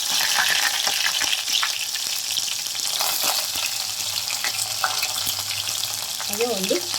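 Cumin seeds, curry leaves, chopped onion and a bay leaf frying in hot oil in a pressure cooker for vegetable saagu, a steady close sizzle with stirring scrapes throughout.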